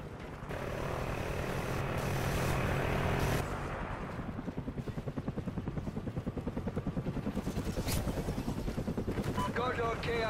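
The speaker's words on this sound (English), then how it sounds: "Friendly chopper inbound." A friendly helicopter in the Call of Duty Ghosts video game thrums with rapid, rhythmic rotor chopping, loud and close, rising over a steady engine drone while game voice callouts and effects play around it.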